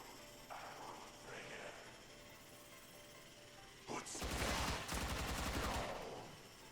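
Gunfire in the Warframe game: a sharp burst of rapid automatic shots erupts loudly after a few seconds of quieter game ambience, rattling in a dense, fast rhythm for about two seconds before tapering off.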